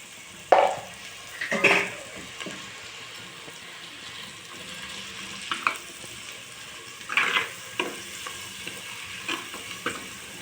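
Ginger and onion frying in a pan until browned: a gentle continuous sizzle broken by several sharp spatula scrapes and clanks against the pan, close and moderately quiet, with no voices.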